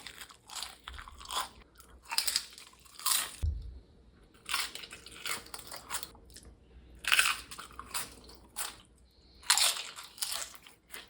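Homemade thin-sliced fried potato chips eaten with cheese, crisp loud crunching bites repeating in bursts about every second or two, close up, with chewing between them and no talking.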